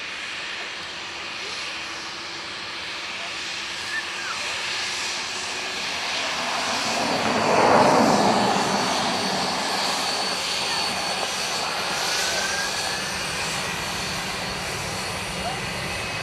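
Embraer 135 Legacy business jet passing at Dublin Airport, its engine roar swelling to a peak midway and then easing off into a steady far-off rumble, with no talk over it.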